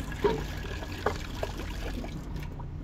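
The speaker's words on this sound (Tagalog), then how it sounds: "unahin na po natin yung tubig" Water poured into a pot while cooking sisig at home, a soft trickling pour with a few splashy accents over a low room rumble, fairly quiet.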